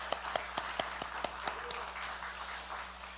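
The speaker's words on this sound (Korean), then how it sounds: "우리 자리에 계시면 잠깐만 일어나서 우리 박수로 환영하겠습니다." A church congregation gives scattered applause to welcome new members at a Sunday worship service, several distinct claps at first before fading into faint, sparse clapping in a quiet room.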